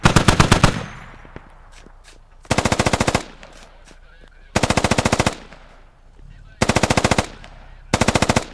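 Automatic gunfire in a video game, five sharp rapid bursts of machine-gun fire separated by pauses of quieter background, loud and close.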